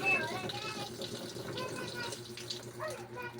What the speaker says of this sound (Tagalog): Yan guys, pumapasok na agad yung tubig.